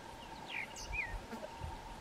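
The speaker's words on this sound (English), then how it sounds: "Beautiful little fluty song, always perched very prominent on top of high trees like that" A groundscraper thrush perched high in a treetop gives a few short, fluty whistled phrases, faint and somewhat distant against a quiet outdoor background.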